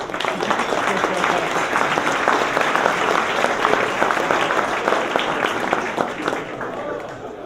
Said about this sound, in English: we would appreciate it if you would give San Diego Country Club and its great staff a round of applause